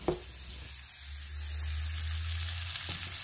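Brussels sprouts frying with bacon in a pan, a close steady sizzle that swells after a brief clatter at the start, with a low hum beneath and no talk.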